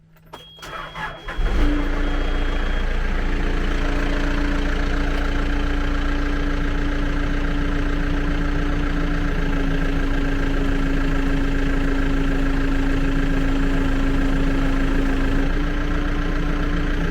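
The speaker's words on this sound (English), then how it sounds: "I'll fire it up so you can see" A backhoe loader's diesel engine starts with a brief crank and then settles into a loud, steady idle beside the fitted Gyro Star screener bucket. A strong low drone and a constant mid hum carry on with no talking.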